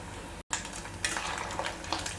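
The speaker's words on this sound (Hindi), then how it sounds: "रोल्स को हम हाई फ्लेम पर ही फ्राई करेंगे" Farali finger rolls deep frying in oil over a high flame, giving a steady broad sizzle with brief crackling bursts and a momentary dropout near the start.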